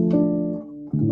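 Default piano voice of a software instrument played from a keyboard: two sustained tones, the first fading out before a second note strikes, clear and close with no talk.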